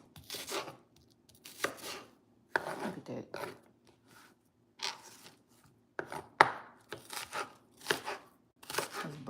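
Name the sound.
food being chopped on a cooking show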